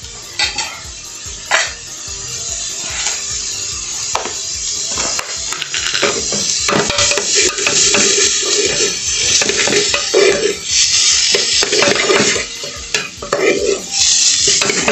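Garlic frying in a small amount of lard in a pan, a loud continuous sizzle with frequent stirring scrapes and utensil clatter against the pot.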